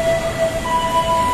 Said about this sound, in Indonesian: Kita lihat dulu kereta bandara. Ini buatan Indonesia dengan Jerman.